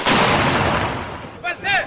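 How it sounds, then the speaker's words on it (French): Soldiers' weapons firing in a loud, close burst that rumbles and fades, then two short shouting voices. "les hommes déchargent leurs armes n'importe où et dans toutes les directions."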